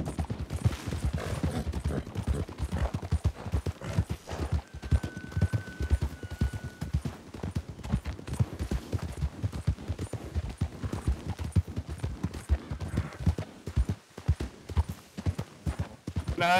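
Horse hooves clip-clop in a steady, rapid rhythm throughout in Red Dead Redemption's RedM roleplay server, a ridden horse moving at pace, loud and close, with a brief tonal whistle partway through.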